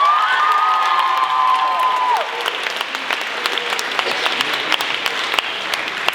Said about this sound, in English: Give a round of applause to Mr.